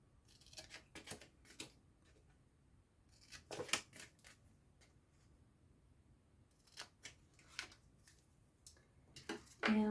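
Scissors snip out small paper strawberries and raspberries for a papercraft gift box, short crisp cuts in scattered bursts with quiet gaps between, close and fairly soft.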